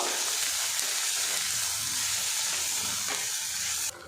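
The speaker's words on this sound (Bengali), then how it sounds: "এবার এই তেলের মধ্যে সয়াবিনের টুকরোগুলো দিয়ে দেব" Soybean chunks fry in hot oil with chilli powder and turmeric, giving a steady, close, bright sizzle and hiss with faint stirring, and no one speaking.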